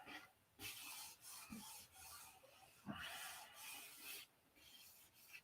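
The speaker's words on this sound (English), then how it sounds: "So the whole airplane gets sanded with 600." Fine 600-grit sandpaper rubs over an airplane's surface in repeated back-and-forth strokes, each a soft, close rasping swish with brief pauses between, fairly quiet and without speech.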